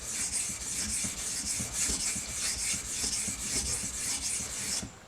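Steady rhythmic rasping of a knife blade stroked back and forth across a whetstone, roughly two strokes per second, close and clear with no talking, stopping just before the end.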